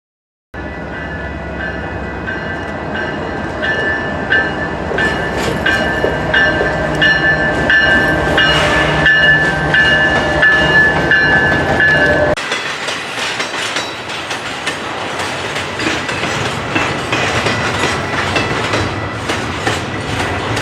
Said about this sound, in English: we did manage to catch this one train